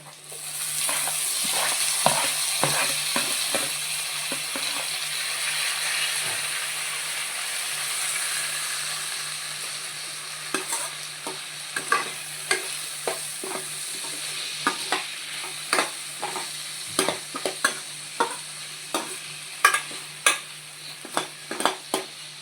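Tomatoes sizzle in hot oil with onions and green chillies for an egg curry, a loud steady frying hiss at first, then a run of sharp spoon scrapes and taps against the pan as the mixture is stirred.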